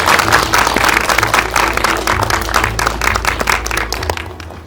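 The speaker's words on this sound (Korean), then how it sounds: "큰 박수 부탁드립니다" An audience at a Korean film producers' awards ceremony gives dense, sustained applause, many hands clapping loudly together before it begins to fade at the end.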